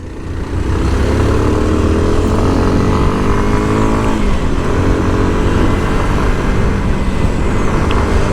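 A Modenas KLX230 SM motorcycle engine drones loudly and continuously while riding, a steady buzzing roar with slight rises in pitch, close up and without talk.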